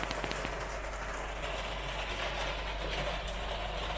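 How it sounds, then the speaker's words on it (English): Rain falls steadily on a roof, a dense even hiss with faint patters layered over a constant low hum, continuous for the whole stretch with no talking. "it's rain, which is what y'all hear on the roof."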